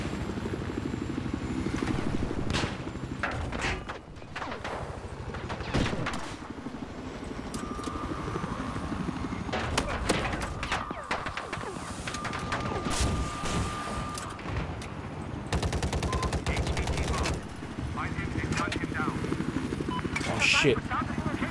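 An enemy helicopter's rotor thrum and bursts of gunfire and explosions in the Battlefield 4 video game on a Shanghai map, rising and falling over several seconds while players talk over the action.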